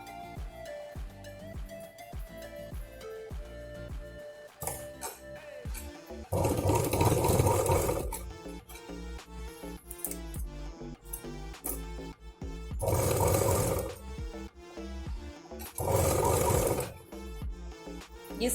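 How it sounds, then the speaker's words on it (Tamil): A sewing machine stitches an apron in several loud bursts of rapid mechanical whirring, close by, separated by quieter pauses with handling noises. "இங்கேருந்தே ஸ்டிச் போட்டு ஆரம்பிச்சு எடுத்துடலாம்."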